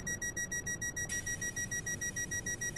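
Train door closing warning in a Class 350/1 train simulator game, a rapid pulsing electronic beeping tone that repeats steadily and shifts to a more sustained pitch partway through, fairly quiet.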